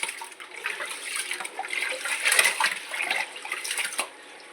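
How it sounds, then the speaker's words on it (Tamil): Ration rice for idli is scrubbed and rinsed by hand, with steady sloshing and swishing water close by for several seconds and no talking. "நல்லா தேய்ச்சி கழுவிடுங்க அரிசி"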